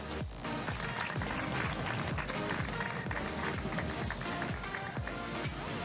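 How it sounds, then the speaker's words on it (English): A crowd at a karting race podium ceremony applauds the race winner, a sustained broad wash of many hands clapping, loud and continuous outdoors with no speech over it. "Let's hear a big round of applause for the race winner"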